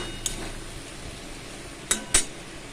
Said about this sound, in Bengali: একটু জলের ছিটে দিয়ে আমি নাড়ব